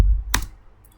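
A single sharp keystroke on a computer keyboard sounds close and crisp, with a faint tick trailing after it.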